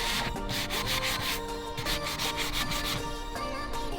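Hand sanding lightly across wooden farmhouse furniture to distress routed edges, a steady close rhythmic rubbing and scratching with repeated back-and-forth strokes, no talking.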